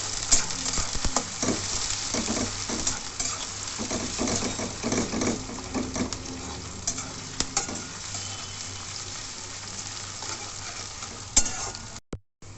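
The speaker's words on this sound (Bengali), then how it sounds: "পেঁয়াজটাকে ভালো করে ভেজে নিতে হবে।" Chopped onions sizzle and fry steadily in hot oil in a wok, with occasional stirring scrapes and clinks throughout, close and fairly loud, ending with a brief pause.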